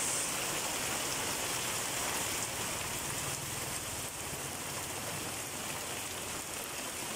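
Heavy rain pours outside a small shop near a school, a dense continuous hiss and patter of downpour on surfaces, steady and unbroken from start to end.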